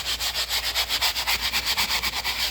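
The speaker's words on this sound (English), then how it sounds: "I just use a basic sanding sponge like this" Brisk back-and-forth scraping of a sanding sponge against drywall mud on a textured wall, about eight strokes per second, close and fairly loud, with no talking.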